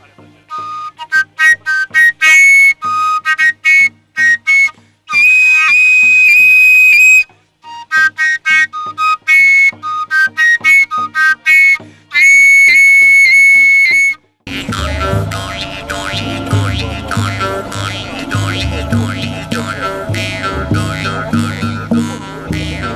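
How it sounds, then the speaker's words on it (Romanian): A tilinca, the archaic Romanian shepherd's overtone flute, plays loud bright whistling phrases in short bursts with pauses, then gives way to a fuller, busier music passage at a historical reenactment festival. "Tilinca cred că este cea mai arhaică formă de, de fluier ciobănesc."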